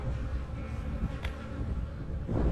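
Honeybees hum steadily across a brood frame in a hive colony as new bees emerge from their cells, a dense, continuous close-up drone with no talk over it.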